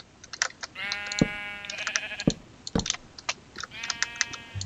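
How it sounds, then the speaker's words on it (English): Sheep in Minecraft bleat repeatedly in short wavering calls, several overlapping, while computer keys clatter in quick taps throughout; no talking. "All these sheep are so annoying."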